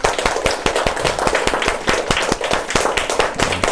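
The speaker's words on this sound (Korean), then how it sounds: "우리 하나님께 영광의 박수 돌려드리겠습니다." Church congregation giving a short round of clapping during a Sunday service, close, brisk and steady hand claps for a few seconds with no talking.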